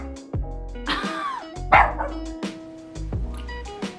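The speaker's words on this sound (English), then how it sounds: "I don't know if you can still hear my dog, but he's going off." A dog barks loudly and close by, several sharp barks spaced about half a second apart, some rising into yelps, with no talking over them.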